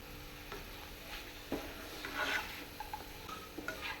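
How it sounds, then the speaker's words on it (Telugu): Chicken keema frying dry in a pan with coriander powder and garam masala, a soft sizzle under scattered spoon scrapes and clicks against the metal, steady and fairly quiet throughout. "చికెన్ కీమా పూర్తిగా ఫ్రై అయిపోయింది"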